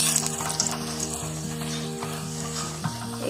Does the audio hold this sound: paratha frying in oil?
yes